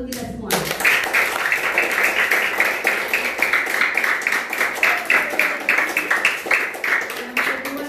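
Audience at a children's retreat closing Mass applauding, dense steady clapping from many hands, close and loud, running continuously after a brief opening voice.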